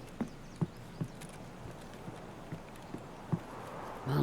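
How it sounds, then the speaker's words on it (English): Footsteps in the video game Escape from Tarkov: a run of distinct, fairly loud thudding steps at a steady walking pace over a low ambient game background, with no talking. "Man, the footsteps are loud."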